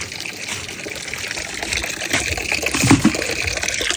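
Water runs steadily from a tap into a vessel placed beneath it, a continuous close splashing trickle that swells slightly near the end, with no one speaking.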